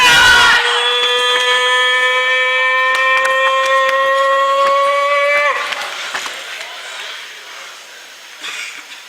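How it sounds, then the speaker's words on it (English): An air-raid siren effect for a bomb raid in a stage drama holds a loud, steady wailing tone for several seconds, then drops away, leaving faint scattered noises. "Then, one day, another bomb raid!"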